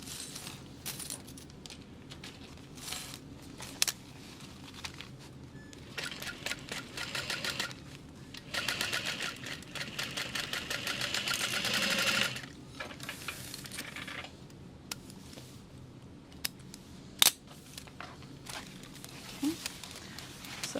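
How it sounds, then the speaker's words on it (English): A sewing machine top stitches through a Riva Mini backpack, running in short mechanical bursts with rapid needle ticking and pauses between runs, fairly quiet and close, with occasional clicks and handling noises. "So top stitching through there."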